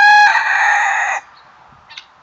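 A backyard rooster crows once, loud and close, a long drawn-out call followed by a faint cluck from the farm chickens.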